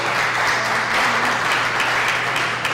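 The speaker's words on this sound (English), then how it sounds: "Let's give them a round of applause" A steady wash of audience applause fills a room at a candidate forum, dense and continuous without breaks for nearly three seconds.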